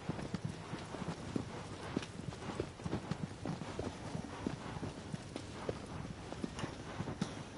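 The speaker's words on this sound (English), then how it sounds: "You get a horse to try to go a little bit faster." Steady horse hooves clop at a quick, even gallop across open landscape in the video game Shadow of the Colossus, a continuous rhythmic pounding heard alone at moderate level with no talking.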